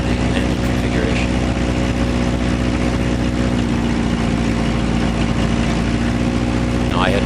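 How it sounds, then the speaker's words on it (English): A small airplane's piston engine is throttled back to idle with carb heat on, giving a steady low drone and hum with wind and cockpit noise throughout, near and fairly loud. "we'll pull the throttle back to idle, and make sure that the idle carb heat on will be in the engine configuration"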